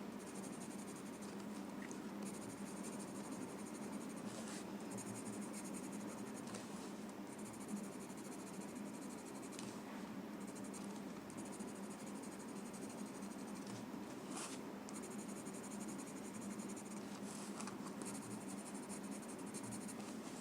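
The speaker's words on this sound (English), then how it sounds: "Adding graphite on one side of the line." A graphite pencil shades on paper with soft, close, continuous scratching strokes, faint and steady with short pauses, and no talk.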